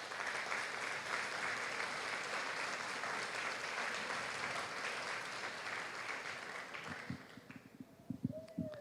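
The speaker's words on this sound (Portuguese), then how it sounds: "Dê uma salva de palmas para o Senhor." Church congregation applause, a dense wash of clapping that holds steady for about seven seconds, then thins out into a few scattered claps as a voice begins to speak.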